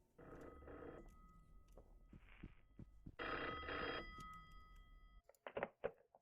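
Telephone ringing inside the Mabinogi online game, sounding in two long electronic ring bursts with a gap between them, fairly loud and close, with other brief game sounds after the rings.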